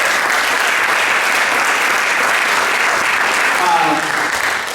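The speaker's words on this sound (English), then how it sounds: "Round of applause and shout out always." A full audience at an event in the Betty Andrews Recital Hall applauds in a loud, dense, continuous wash of clapping that holds steady for several seconds before easing slightly at the end.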